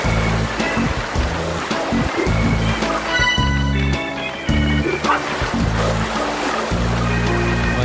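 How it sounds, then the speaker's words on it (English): Beach waves from a 1998 Nintendo 64 video game, a loud, steady wash of surf mixed with synthesized game music and tones, playing continuously throughout with no talk over it. "I hear the beach and a dog."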